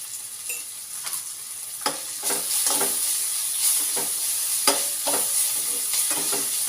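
Pasta sauce sautéing in a pan, a steady sizzle of frying with repeated scraping stirs of a spoon knocking against the pan at irregular intervals, close and fairly loud, no voices.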